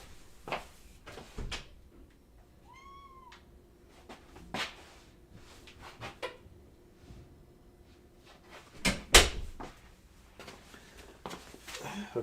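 A house door is opened to let a pet cat in or out, with clunks, a latch click and a sharp knock amid shuffling footsteps and household bumps, plus a brief rising squeak, all moderately close in a quiet room.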